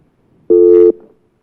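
A single steady telephone line tone, as a caller joins a Hindi talk show, sounding for about half a second, loud and clear with nothing else over it, then fading out.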